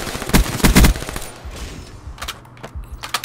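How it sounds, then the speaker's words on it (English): Pistol gunfire in the video game Black Ops 3, free-for-all match: a quick cluster of loud sharp shots early on, then a few fainter scattered reports with quiet gaps between them. "He's killing us with the stupid pistol."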